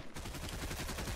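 Rapid bursts of gunfire from the video game Fortnite, a dense run of shots that is loud and continuous through the brief moment, with no talking.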